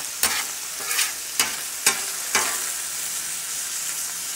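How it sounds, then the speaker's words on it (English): Ground beef browning in a frying pan gives a steady, close sizzle, broken by five sharp scraping stirs in the first half before the hiss settles on its own; no one speaks. "Alright, so browning this ground beef up."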